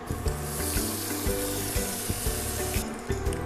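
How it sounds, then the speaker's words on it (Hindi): Butter heats in a pan for dhaba-style Amritsari paneer bhurji, giving a steady, close sizzling hiss with small crackles that runs unbroken throughout, without any talk. "एक पैन में हम 2 चम्मच बटर गरम करेंगे"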